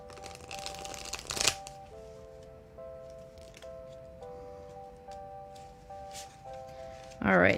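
A tall tarot deck is shuffled, crisp riffling bursts at the start and again at the close, close by, with a tonal background melody playing through the middle.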